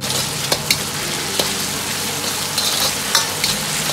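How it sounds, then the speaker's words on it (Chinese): Pork slices stir-frying in a hot wok over medium heat, a steady loud sizzle with a few sharp clinks and scrapes from a ladle pushing the meat around. "保持中火下入肉片。 下锅后先静置三秒钟，让淀粉糊化，然后再用勺子推散"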